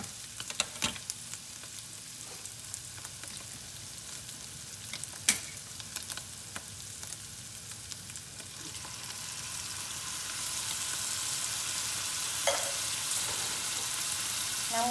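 Garlic cream sauce with tomatoes simmering in a pan for pasta, a quiet steady sizzle and bubbling with a few sharp pops and clicks, growing slightly louder toward the end, no talking.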